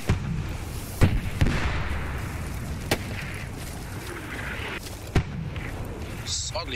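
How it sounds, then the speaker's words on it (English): Distant gunfire crackles in a Post Scriptum World War II battle: scattered sharp reports and booms over a steady rumble of combat noise, with voices talking on the radio. "Alright, we're taking fire here."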